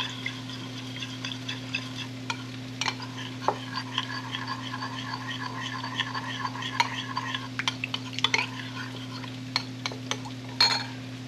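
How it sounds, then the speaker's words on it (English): A utensil stirs chicken thighs in sauce in a pan, making faint irregular scrapes and clinks over a steady electrical hum, with the scrapes loudest near the end. "Just give this a good stir."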